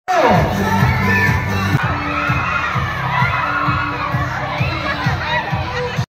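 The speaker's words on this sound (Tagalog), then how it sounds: "Lahat kayo sumigaw." Crowd of schoolchildren shouting together at a school Christmas party, a loud sustained chorus of young voices with rhythmic cheering bursts filling the hall.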